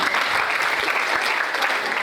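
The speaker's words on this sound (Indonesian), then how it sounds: "Beri tepuk tangan lagi semuanya." Dense, sustained applause from an audience at a school arts performance anniversary event, a steady wash of clapping with no breaks, loud and close, with faint voices mixed underneath.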